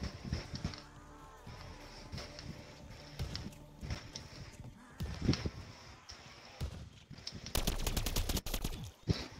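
Gunfire in a zombies video game: bursts of rapid automatic shots and single cracks, loud and close, repeating irregularly and building into a dense volley at the end.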